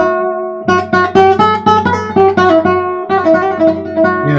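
Nylon strings of a classical guitar ring out in a quick run of plucked notes, a steady rhythmic pattern with a short pause near the middle, bright and close without any talking.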